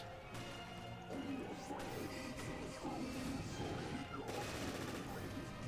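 Gunfire and crashing impacts during combat in Resident Evil Revelations, a dense stream of shots and thuds over a steady background of game sound, with a voice talking over it.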